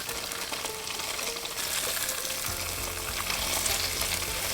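Tofu pan-frying in a generous amount of oil over low heat gives a steady close sizzle and crackle, with soft scraping and stirring clatter coming through partway in.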